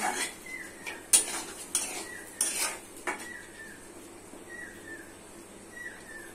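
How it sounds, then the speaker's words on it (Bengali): Red lentils stir-fried with potatoes in a metal pan, a spoon scraping and knocking against it in several sharp strokes over a faint sizzle, with no one talking. "মসুর ডাল দিয়ে ভালো করে আলুর সাথে কষে নিতে হবে।"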